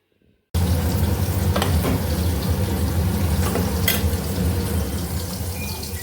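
Fish sizzles steadily in hot oil in a home kitchen pan, a loud, continuous frying hiss broken by a few pops and spatters, starting abruptly and running without pause.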